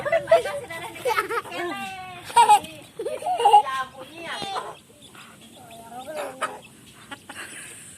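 Chickens cluck and squawk close by in repeated bursts, mixed with other animated bird calls and busy background activity.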